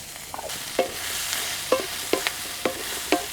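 Onions frying with green chillies and garlic cloves for chicken donne biryani, a soft background sizzle broken by about six sharp spatula scrapes against the pan at an uneven rhythm.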